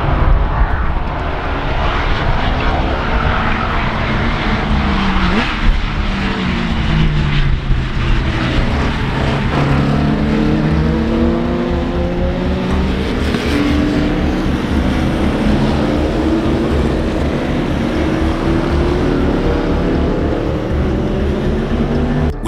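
TVR and Porsche 911 race cars on a circuit, engines roaring loud and continuous with rising and falling revs as they chase closely through corners, no talk.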